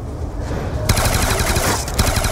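Rapid automatic gunfire from a Pack-a-Punched weapon in Call of Duty Black Ops 2 Zombies on the Nuketown map, a loud continuous burst that starts abruptly and rattles on without pause, with no talking over it.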